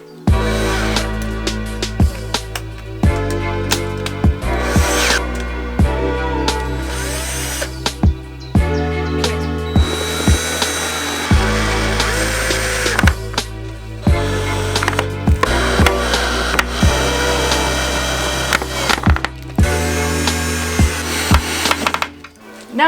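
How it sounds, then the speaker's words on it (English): A power screwdriver fitted with an angle attachment drives screws into a van's wooden floor during a camper conversion, its loud motor whirring in repeated bursts that are cut by brief pauses and sharp clicks, close up with no talk. "So that's why I'm screwing in this direction, and that should keep everything nicely in place."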